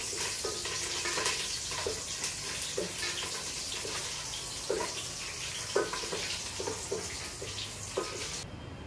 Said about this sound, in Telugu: 2-3 కరివేపాకు రెమ్మలు ఇలా వేసుకుని ఒక 2-3 నిమిషాలు అయితే వేయించుకోవాలి.